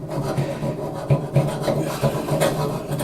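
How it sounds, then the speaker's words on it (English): A burred tool scrapes paint and drywall mud off a pipe during an angle stop installation, making a close, rough rasping stroke after stroke in an irregular rhythm, with no talking. "use it to scrape off paint. And the drywall mud or whatever."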